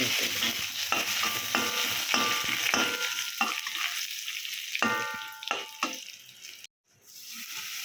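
Urad dal and curry leaves sizzle steadily in hot oil during tempering for a tapioca dish, with scattered crackles and stirring clatters, then a brief break near the end before the sizzle resumes.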